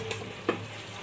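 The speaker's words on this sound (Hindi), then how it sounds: "मेरा चिकन अभी बन रहा है।" Chicken frying in a pan in a home kitchen, a soft steady sizzle with a couple of brief stirring clinks, faint and close, no voices.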